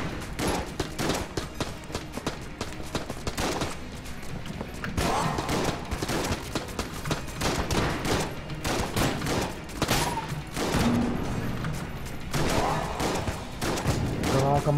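Dense bursts of gunfire from the shotgun-heavy action game Enter the Gungeon, repeated blasts and chaotic effects filling the whole stretch, with a player's voice faintly mixed in.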